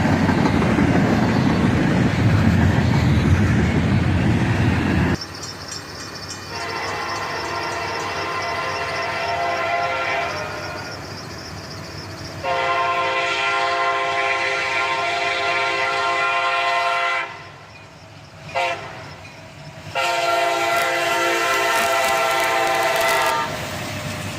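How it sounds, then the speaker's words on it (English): Intermodal freight train hauled by five diesel locomotives (ET44AH, SD50-3, SD40-2, ES44ACH, ES44DC) passing close by, a steady loud engine roar and wheel noise with a horn blast, the sound briefly dipping before the train rumbles on. "Five locomotives on this intermodal: an ET44AH, an sd50-3, an sd40-2, an ES44ACH, and an ES44DC."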